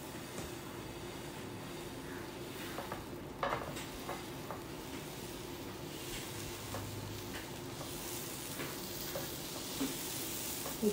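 Instant dosa made from leftover rice cooks on a hot pan, giving a soft continuous sizzle with occasional faint scraping, quiet and steady throughout.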